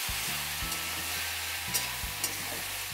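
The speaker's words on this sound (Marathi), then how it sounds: "चांगलं हलवून घ्यायचं।" Tomato sabji fries in a pan while being stirred, a faint continuous sizzle with a low hum beneath and a couple of light clicks from the spoon, with no one speaking.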